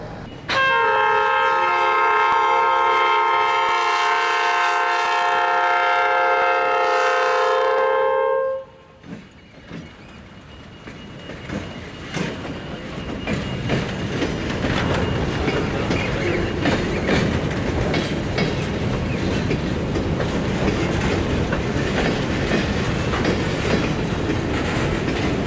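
A freight train led by an EMD SD70ACE with an ES44AC on the rear sounds a loud sustained horn, then rolls past with rumbling wheels and clattering cars that continue steadily.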